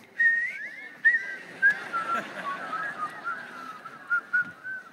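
An audience whistles a tune together when prompted during a sermon-style talk, producing a wavering, breathy melodic line of overlapping whistles that rises and falls in short phrases for several seconds.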